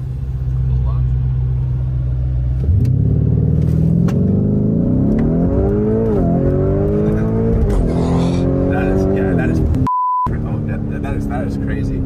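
Lamborghini launching from a standing start in Sport mode: a steady idle bursts into a loud rising engine roar through several upshifts, close and dominant, with a brief beep near the end and talk at times.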